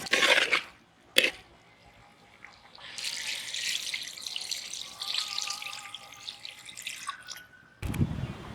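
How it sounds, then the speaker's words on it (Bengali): Water is poured into a pot of village-style mutton curry after the meat has been browned, a rushing splash lasting several seconds between brief clinks and knocks, close by and with no talk. "মাংস কষানো হয়ে গেছে, এখন জল দিয়ে দেবো।"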